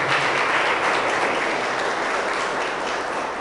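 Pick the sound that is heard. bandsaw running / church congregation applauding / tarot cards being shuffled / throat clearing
church congregation applauding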